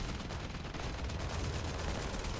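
Aircraft cannons hammer away in War Thunder air combat, a dense, continuous stream of rapid booming shots loud and close for the whole burst with no pauses.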